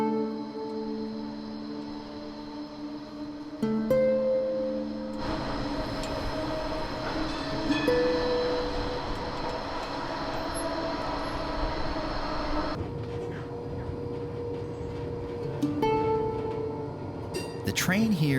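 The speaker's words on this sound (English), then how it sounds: "The train here is the absolute best way to get around and cover the ground needed to get a good feel for Basel." Inside a train riding through Basel, Switzerland, a steady rumble of wheels and carriage noise carries on with tonal motor whines and brief squeals, moderately quiet, with some voices faintly in the background.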